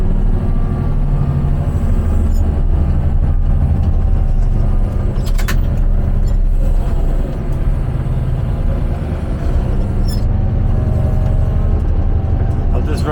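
A heavy road machine drives over gravel as it cuts it off. A loud, steady engine rumble continues throughout, with a faint crunch of gravel beneath it.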